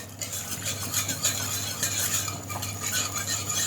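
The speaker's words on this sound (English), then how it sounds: "I'm going to get the whisk" A whisk stirs a porcini mushroom stock sauce in a pan for Swedish meatballs, giving a continuous close scraping and swishing with a steady low hum underneath and no talking.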